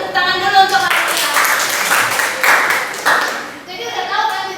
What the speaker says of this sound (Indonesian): tepuk tangan dulu untuk Aisyah.